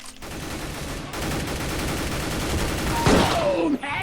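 Rapid bursts of gunfire from the Counter-Strike video game crackle continuously and loudly for a few seconds, ending with a brief sharper shot and a short whistling tone.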